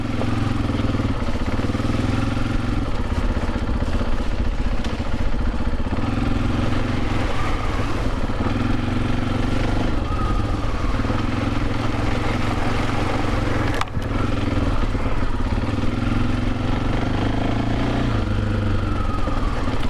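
Husqvarna FE501s dirt motorcycle fitted with a Rekluse clutch, its single-cylinder engine droning steadily and loud throughout at low, lugging revs, close up with no voices.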